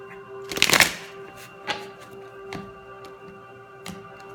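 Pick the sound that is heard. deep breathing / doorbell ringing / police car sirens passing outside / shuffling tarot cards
shuffling tarot cards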